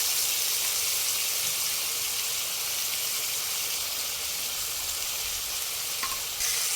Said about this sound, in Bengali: মশলার সঙ্গে আলুটাকে খুব ভালোভাবে নেড়ে চেড়ে 1 মিনিট মতো কষিয়ে নেব